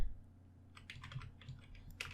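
Keys click on a computer keyboard in a quiet, brief burst of a few light taps, with no voices.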